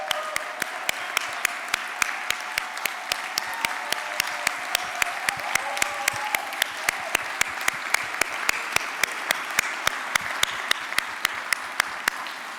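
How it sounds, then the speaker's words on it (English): An event audience gives a round of applause for staff, a long sustained patter of many hands clapping with sharp individual claps standing out, fairly distant and even throughout. "Staff, please wave your hands so we can give you a round of applause."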